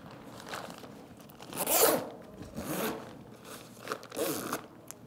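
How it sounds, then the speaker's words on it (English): Zippers at the heel of a compression foot garment are pulled and adjusted during a fitting. Several short, close zipping strokes sound at a low level against quiet room tone. "I would adjust the zippers in the heel."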